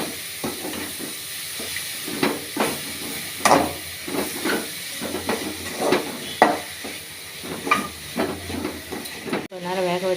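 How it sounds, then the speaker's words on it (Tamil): Carrots sautéing with turmeric in a pan are stirred with repeated scraping strokes over a hissing sizzle, loud and close, the spoon rasping in an irregular rhythm. "இது நல்லா கிண்டி வச்சுக்கலாம்."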